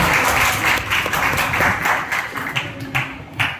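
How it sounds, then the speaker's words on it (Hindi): Students at an institute's annual culture fest and anniversary celebration clap loudly to welcome the director onto the stage, a dense, uneven burst of many hands with sharp individual claps standing out, close and continuous without talk. "सर का बहुत जोरदार ताली से वेलकम करते हैं सब बच्चे"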